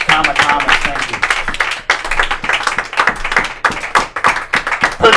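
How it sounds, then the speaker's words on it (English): A comedy show audience clapping in a lively, uneven burst, with individual hand claps standing out close by and some voices mixed in. "Give him a round of applause!"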